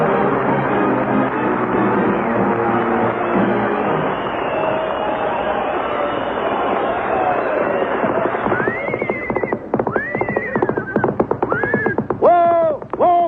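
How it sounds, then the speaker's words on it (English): A horse sound effect for a 1940s comedy radio show: steady music plays first, then a loud horse whinnies several times in rising, wavering calls near the end, with faint clip-clop of hooves underneath. "It's a horse, isn't it? Certainly it's a horse."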